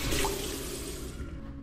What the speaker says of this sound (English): water running from the toilet